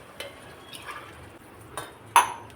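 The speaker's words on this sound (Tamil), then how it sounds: "இப்போ நல்லா கலந்து விட்டுக்கலாங்க." A spoon scrapes and clinks against a cooking pot while white biryani of rice, water and coconut milk is mixed, giving a few soft, separate stirring knocks and one sharper metallic clink near the end.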